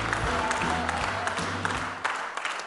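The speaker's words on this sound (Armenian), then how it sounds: "քեզ էլ ենք ծափարում, քեզ բարի ծառայություն ենք մաղթում" Audience applauding at a club event honouring a boxer's knockout win, a steady dense clapping from a crowd that holds loud and even before tapering slightly at the end.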